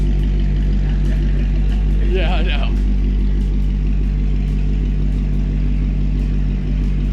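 A McLaren 720S engine and exhaust hums in a steady, loud drone throughout, with a brief spoken exchange partway through.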